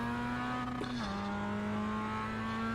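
Mazda MX-5 Cup race car on an out lap in iRacing, its engine a steady sustained drone with a brief pitch dip near one second, holding a constant tone throughout.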